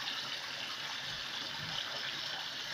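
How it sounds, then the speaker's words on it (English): A circulation pump in a catfish tank fitted with a biofilter sends bubbling, gushing water in a steady, soft, continuous rush heard close by, with no talk. "circulation pump working perfectly with the bubbles giving a reaction to water"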